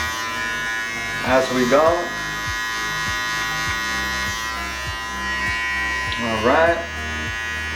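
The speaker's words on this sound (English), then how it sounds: "if you don't hear any hair being cut, go ahead and lower the clipper, the lever I should say" Electric hair clippers buzz steadily and close up as a person cuts their own hair. Someone talks briefly over the continuous whine.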